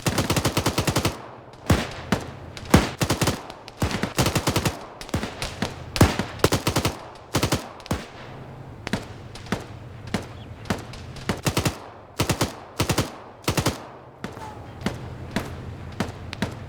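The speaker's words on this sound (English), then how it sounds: "Shots just sound like they're coming from the left side of that smoke in that tree" Video game gunfire crackles in sharp single shots and rapid bursts, some close and loud, others spaced out, with brief quiet gaps between volleys.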